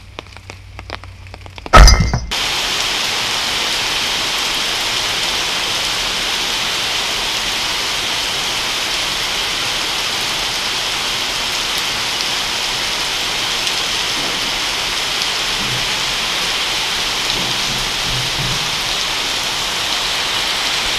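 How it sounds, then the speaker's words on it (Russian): Heavy monsoon rain in Goa pours steadily as a dense, loud hiss after a brief knock and clatter at the start, continuing evenly with no voices. "Вот такой у нас сезон дождей, ёлы-палы!"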